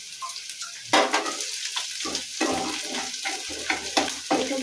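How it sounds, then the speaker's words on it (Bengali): Onions and green chilies sizzle in a pan, broken by repeated scrapes and knocks as a spatula stirs against the metal, all close and clear with no talking. "পেঁয়াজ লঙ্কা এবং সব ভাজা ভাজা হয়ে গেছে"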